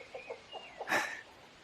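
Chickens at a coop give a few short soft clucks, then one louder, sharper squawk, close by with quiet surroundings.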